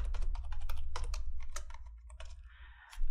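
Password being typed on a computer keyboard in Windows 11, a quick run of close, distinct keystrokes followed by a short pause and a soft hiss.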